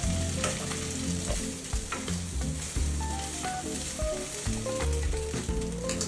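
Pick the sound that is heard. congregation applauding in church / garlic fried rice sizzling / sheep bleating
garlic fried rice sizzling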